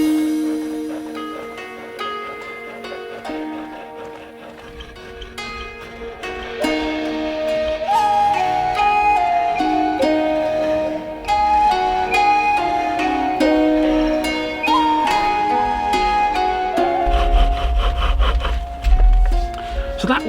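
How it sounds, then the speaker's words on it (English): A two-inch-wide, very sharp chisel cuts wood turning on a spring pole lathe, giving steady rubbing and scraping strokes in a rhythmic cycle, close and fairly loud, with no talk. "a 2-inch wide, extremely sharp pole lathe chisel"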